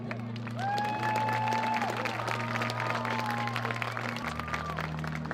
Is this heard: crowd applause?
yes